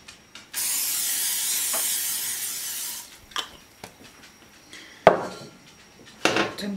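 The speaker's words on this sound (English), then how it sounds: "I'm gonna use some of that Pam spray." A long steady hiss of Pam cooking spray being sprayed into a pan, lasting about two and a half seconds, followed by scattered clinks and clatters of cookware in a home kitchen.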